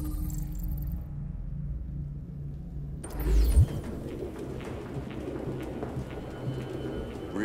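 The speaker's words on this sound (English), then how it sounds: "No human could live with all these fucking pigeons." Pigeons cooing in a room crowded with them in the video game Detroit: Become Human, soft repeated coos over a low rumble after a quiet opening, with a brief thump near the middle.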